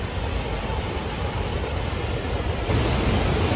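Waterfall in Kyushu's Kumamoto or Oita region, cascading over columnar-jointed rock: a steady, dense rushing roar of falling water, close and constant throughout.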